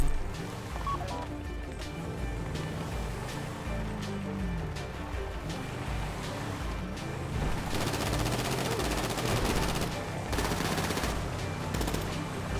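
Sustained bursts of automatic gunfire in GTA Online, rapid shots stacking into a dense, loud fusillade that intensifies in the second half, with a voice briefly heard underneath.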